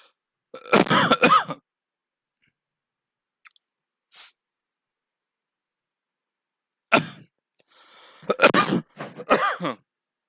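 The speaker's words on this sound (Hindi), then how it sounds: "अभी तक खांसी गई नहीं है मेरी।" Several harsh coughs from a lingering cough in two bursts during a maths class, close and fairly loud, with a couple of faint throat sounds in the quiet gap between them.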